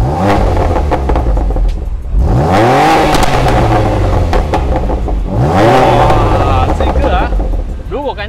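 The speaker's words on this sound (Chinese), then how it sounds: "踩一下油啊。" A BMW M2 Competition with M Performance exhaust in Sport Plus mode revving hard twice, the engine note climbing and falling with each blip, loud and close from inside the cabin, wind noise around it.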